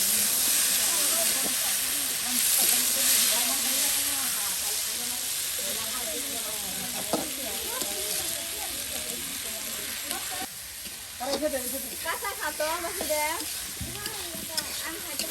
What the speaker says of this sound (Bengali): আপনার মিষ্টি লাউয়ের বটি তৈরি হয়ে গেল একদম কত সুন্দর করে ভাজা ভাজা করে কিন্তু তৈরি করে নেওয়া হলো